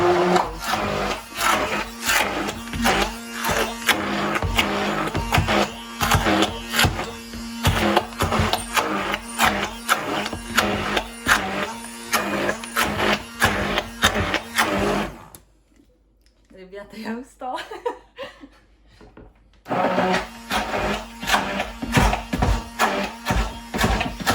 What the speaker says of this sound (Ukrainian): блендерить, доки не все не буде однорідно.